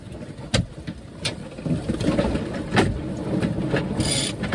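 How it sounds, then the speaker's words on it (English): A sailboat's headsail flaps loosely in the wind on a passage to Ko He, Thailand, with its sheet let go: irregular sharp luffing cracks over a steady rumble of wind and boat noise. "That's my head sail in the wind"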